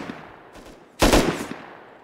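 A short burst of rapid gunfire in a video game, one loud clustered volley after a fainter pop, brief and close.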